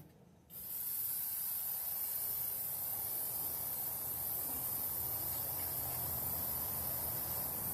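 A spray can lays a light tack coat of paint onto a rusty cabinet on a hot, humid day, a steady close hiss that starts abruptly after a brief pause and holds without a break.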